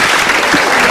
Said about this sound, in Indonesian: Kita berikan tepuk tangan dulu untuk Mbak Ratu.